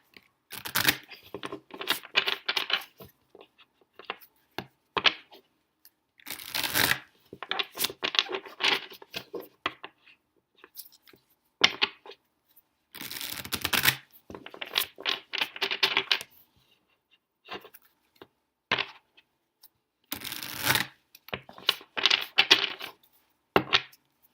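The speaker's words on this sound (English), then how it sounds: "I'm going to shuffle the cards before we get started" Tarot cards are shuffled by hand in bursts of close riffling and slapping, separated by short quiet gaps, with no talking.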